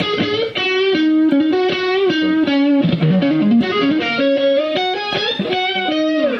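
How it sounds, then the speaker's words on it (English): A distorted electric guitar plays a fast, continuous solo line, ending in higher doubled octave phrases, loud and up front with no voices. "For the guitar solo, there's octaves at the end."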